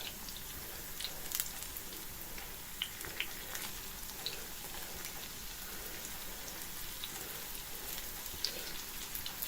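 Soft, steady crackling and sizzling of potato pancakes frying in a pan, faint and continuous with occasional small pops.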